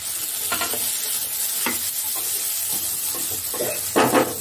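Carrot, capsicum and spring onion dropped into onions frying for Indian-style masala pasta, giving a steady sizzle with scraping stirs and a few louder clatters near the end, no voices.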